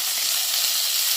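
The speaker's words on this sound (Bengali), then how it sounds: "এবার মাছের মাথাটা আমি ভাজতে দেবো।" Katla fish head sizzling in mustard oil, a loud, dense, even hiss of frying heard close up and alone for a short moment.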